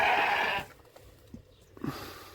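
A goat bleats loudly at the start in one drawn-out nasal cry, followed by quieter shuffling and a couple of short soft sounds from farm livestock nearby.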